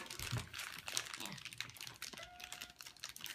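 Plastic wrapping on a Play-Doh set is crinkled and torn open in soft, scattered rustles and crackles close by, while people talk over it.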